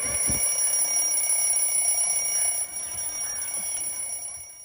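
An alarm clock rings continuously with a shrill, steady high-pitched tone, close and loud, dropping slightly in level partway through and carrying on.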